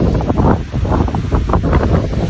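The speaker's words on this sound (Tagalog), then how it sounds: "Malakas ang hangin, bagyo." Strong gusting storm wind at a hilltop lookout in Pagbilao, Quezon, roaring and buffeting hard against the microphone without a break.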